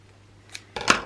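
Ribbon being cut on the bias with scissors while decorating a Christmas album: a faint snip, then a louder, closer crisp scissor cut near the end, with no talking.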